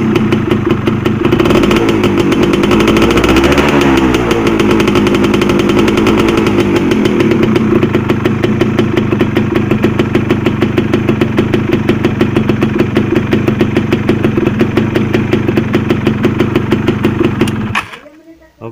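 A Yamaha F1ZR two-stroke motorcycle engine revs loud and close, a steady buzzing drone held for most of the run before it cuts off sharply near the end.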